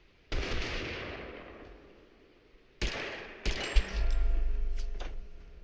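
Gunfire rings out in the video game Totally Accurate Battlegrounds: a loud shot with a long decaying echo, then a second shot about two and a half seconds later, followed by a quick burst and a sustained low rumble.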